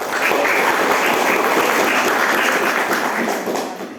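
A class of grade 12 computer networking students at SMK 1 Garut claps together in a school classroom, a dense, loud burst of applause that carries on steadily for a few seconds before tapering.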